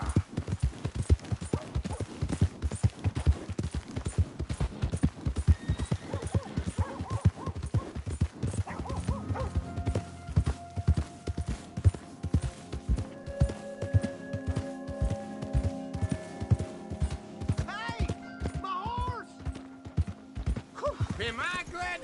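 Horse hooves clip-clop in a PS4 video game, a steady run of sharp hoofbeats that eventually slows and thins out. Occasional talk and game sounds come in over the hoofbeats.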